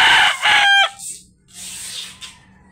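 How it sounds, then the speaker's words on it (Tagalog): A young Peruvian gamefowl stag, around four months old, crows nearby in one loud, strained call that breaks off, then softer clucking and rustling follow in a quiet outdoor setting. "Ngayon ko lang maririnig yung mga ganito mga manok eh."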